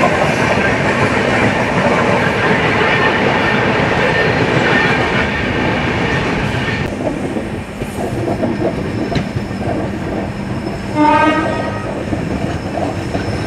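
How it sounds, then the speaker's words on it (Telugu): Swarna Jayanti Express pulling out of a station, recorded on board: loud steady rumble and rolling noise of the railcars throughout, with a short horn-like tonal blast near the end. "ట్రైన్ కూడా అయితే డిపార్ట్ అయిపోతుంది, సిగ్నల్ అయితే క్లియరెన్స్ అయిపోయింది"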